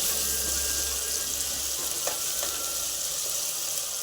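Onions cooked with a pinch of salt hiss in hot oil in a steady, loud, close sizzle, with a few faint stirring knocks and no talk.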